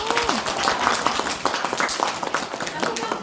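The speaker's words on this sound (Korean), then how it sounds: "다시 한번 박수 좀 해주세요." A studio audience claps for dancers who moved up a level at a dance academy promotion announcement, a scattered round of applause with voices and chatter mixed through it.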